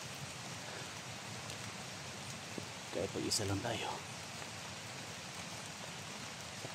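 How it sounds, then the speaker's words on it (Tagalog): Steady rain falling outdoors, a continuous hiss of drops filling the background, with someone briefly speaking over it partway through. "Kahit umuulan mga tol."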